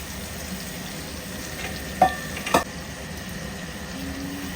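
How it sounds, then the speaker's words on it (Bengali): Chicken pieces going into a pan of fried spices, a steady close sizzle with two brief louder scrapes of stirring partway through. "চিকেনটা এটার মধ্যে দিয়ে দেবো"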